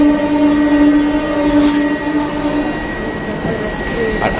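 The Puri–Shalimar Sri Jagannath Express, train 18410, produces a loud, sustained rumble with a steady tonal hum and a brief higher-pitched squeal or horn-like note, heard close by from the platform or carriage with no talking.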